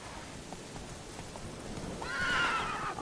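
A horse in The Witcher 3 gives a loud, close whinny near the end, after soft, scattered hoofbeats.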